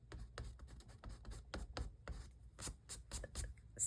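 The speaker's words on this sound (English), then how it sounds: "now we can erase the pencil lines." A traditional eraser rubs lightly over watercolor paper to lift pencil lines, making quiet, irregular scratchy strokes in short bursts, close by.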